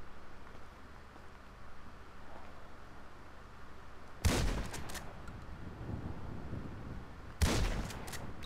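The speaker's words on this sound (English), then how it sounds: "I gotta use a shotgun to take down a bird" Shotgun blasts in the video game GTA V, two loud booming shots several seconds apart over a steady background of game ambience.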